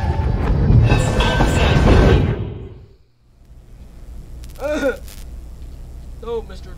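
A train in the video game We Happy Few rumbles past loudly with rolling clatter that fades out, followed by quieter track noise and high metallic squeals.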